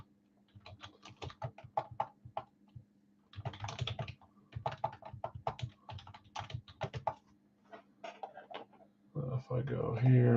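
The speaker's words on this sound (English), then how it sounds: "tell me if you see me typing your name here, Jason." Quick bursts of typing on a computer keyboard, clicking in uneven clusters with short pauses between, close and clear over a faint steady hum, with a louder noise breaking in at the end.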